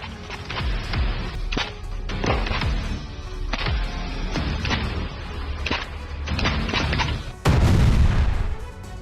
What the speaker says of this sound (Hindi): रूसी सेना ने ड्रोन पर की फायरिंग।